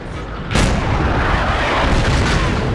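Artillery in the World of Tanks video game fires a loud, close blast that cuts in abruptly and rolls into a sustained roaring rumble, with no talking.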